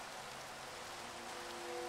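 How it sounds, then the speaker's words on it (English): Steady rain pours in a video game, a soft, even hiss with no breaks and nothing else standing out. "And it's raining too."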